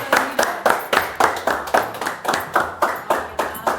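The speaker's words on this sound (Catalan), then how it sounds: "Doncs aplaudiment per ella, vine cap aquí." Audience clapping for a volunteer at a live show, a crowd beating out a regular rhythmic clap roughly twice per second, loud and close, with no talking over it.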